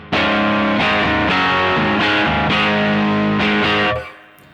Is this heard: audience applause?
no